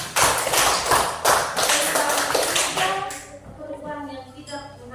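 Classroom applause from students, a burst of dense clapping for about three seconds that stops abruptly, followed by quieter tonal sounds and faint background activity.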